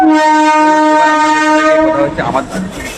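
A local commuter train running from Dumdum Cantt to Barasat in West Bengal blasts a loud, sustained horn for about two seconds. Close rumbling and clattering of the moving carriages follow.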